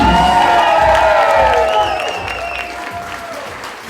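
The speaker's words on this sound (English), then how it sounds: "can you make some noise for Ross, please?" Loud wedding reception crowd applause with cheering and whoops, sustained throughout and fading slightly toward the end.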